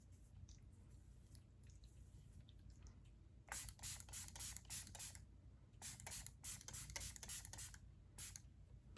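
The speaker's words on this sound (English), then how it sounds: "let's do some setting spray. This is ColourPop." ColourPop setting spray misted onto a face during a makeup routine, several quick hissing pump bursts in two clusters, fairly close but soft over a quiet room hum.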